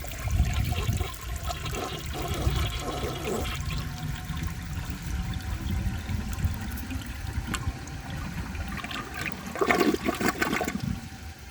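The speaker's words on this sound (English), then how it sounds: "I am going to give it another flush and see how much of that it can take." A 1981 Kilgore Apex toilet flushing, a close rushing swirl of water that surges, settles into trickling refill, then gurgles again near the end, no talk.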